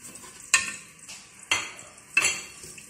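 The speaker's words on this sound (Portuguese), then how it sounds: "Eu vou dar uma leve dourada aqui nesse alho" Eight garlic cloves fry in a pan on the stove, a soft sizzle broken by three sharp scraping clinks of a utensil stirring against the pan, close and fairly quiet, with no talk.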